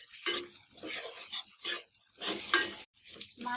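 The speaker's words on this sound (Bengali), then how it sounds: "নেড়ে চেড়ে নিই।" A spatula scrapes and stirs chopped onions with small shrimp in a hot frying pan, in quiet bursts of stirring and soft sizzling separated by short pauses.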